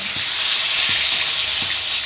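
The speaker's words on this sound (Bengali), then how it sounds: "মাছগুলো দু পিট লাল লাল করে ভেজে নেব" Loud, steady sizzling of catla fish pieces frying in hot oil, a constant hiss with faint low bubbling pops underneath, no voices.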